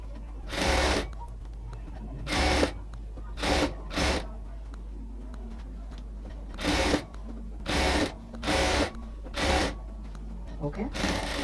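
A sewing machine stitches a folded hem of sari fabric along a dress sleeve in a run of short, separate bursts with brief pauses between them, each burst close and bright against a quiet room.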